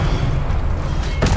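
A Confringo explosive spell goes off in Hogwarts Legacy: a short, bright blast bursts out near the end over a dense, rumbling game soundscape.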